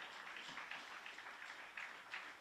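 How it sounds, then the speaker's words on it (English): Spectators at an Atlantic Senior Fours grand final of lawn bowls clap for the Cyprus ladies, a faint, distant, scattered patter of applause from a small crowd outdoors. "a clap there for the Cyprus ladies"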